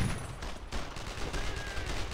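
Rapid bursts of gunfire in the video game Brothers in Arms: Road to Hill 30 crackle in quick succession, a dense volley of shots with a sharp electronic whine near the end.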